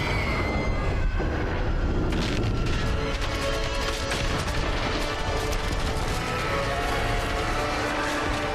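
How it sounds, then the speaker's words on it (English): A thunderous cinematic explosion from The Lord of the Rings films, with dense rumbling low end and crashing debris, sustained and loud throughout, with mechanical clatter layered in. "probably favorite explosion in cinema history"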